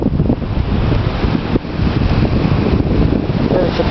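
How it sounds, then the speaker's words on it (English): Ocean waves roll onto a quiet beach at Half Moon Bay in October, a continuous loud wash of surf mixed with heavy wind buffeting the microphone. "Peaceful waves rolling in."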